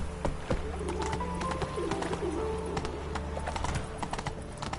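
Horse hooves clip-clop at a walking pace in The Witcher, a run of crisp, evenly spaced hoof knocks mixed with background birdsong and cooing.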